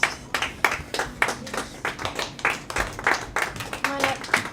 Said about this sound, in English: So all the artists, please come back up on stage so our great audience can give everybody a round of applause again.